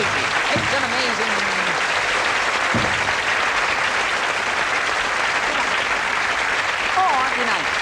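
A studio audience claps continuously at a 1983 BBC light entertainment show, a dense, even wash of applause with a few brief vocal sounds over it.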